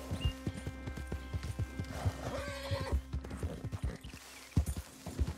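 A horse in Red Dead Redemption 2 whinnies with a rising and falling neigh while its hooves clip-clop in a steady trotting rhythm, close and clear.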